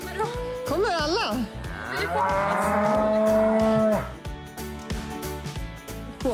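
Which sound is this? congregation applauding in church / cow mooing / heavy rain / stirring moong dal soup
cow mooing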